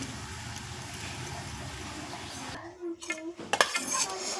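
Utensils and a plate clink and scrape while someone eats rice with dondakaya (ivy gourd) fry and peanut powder, with soft muffled handling sounds first and then a few sharper close metallic clinks near the end.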